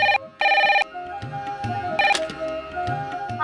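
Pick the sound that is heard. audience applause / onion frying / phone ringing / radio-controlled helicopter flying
phone ringing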